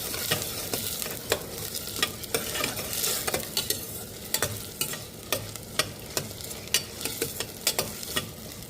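Ginger garlic paste sautéing in a hot pan for coconut milk pulav, a steady sizzle broken by sharp, regular scrapes of a spoon stirring it, close and fairly quiet with no talking.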